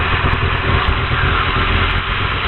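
Steady, loud drone of a Spitfire's piston engine running at high power on the ground at Duxford, brakes held during run-up, constant and close, with no talking.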